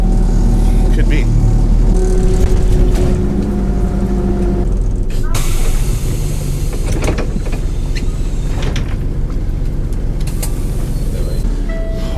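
A city bus in Ukraine rumbling along with loud hissing air-brake and door releases and a steady engine drone, people talking nearby.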